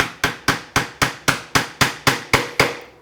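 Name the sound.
tapping a chisel into a half-blind dovetail socket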